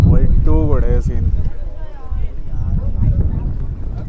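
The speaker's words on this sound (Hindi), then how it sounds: "बहुत तेज हवा है, बहुत तेज हवा है।" Strong wind gusts over a hilltop at Bahubali Hills near Udaipur buffet the microphone with a loud, steady low roar while someone talks throughout.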